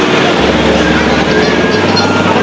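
A loud motorcycle with an MDL exhaust rumbles nearby with a steady, heavy low drone and a roar that stays strong the whole time.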